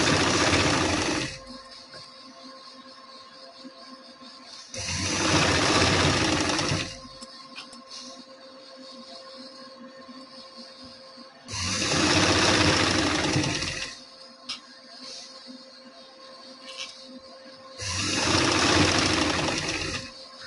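A sewing machine stitches a seam with a half-inch allowance in four separate loud bursts of rapid whirring, separated by quiet pauses with faint handling noise.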